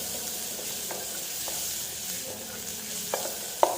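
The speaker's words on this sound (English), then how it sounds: "So we can add now onion and mix well with the helping of wooden spoon." Onion sizzling with garlic in a pan during a continental tempering, stirred with a wooden spoon; a steady soft hiss with a few light scraping stirs and one sharper knock near the end.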